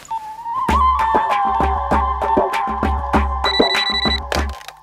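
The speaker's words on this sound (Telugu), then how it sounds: "నెక్స్ట్ కాల్ రిసీవ్ చేసుకో" A telephone rings with an incoming call in a studio, repeated bright electronic ringtone bursts in a steady rhythm, loud and close with no talk.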